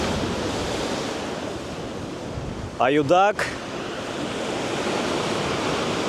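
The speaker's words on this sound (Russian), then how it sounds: "Волна захлестывает буны." Sea waves break against the breakwaters on a Yalta beach in Crimea, a steady roaring wash of surf with wind noise and a brief spoken word midway.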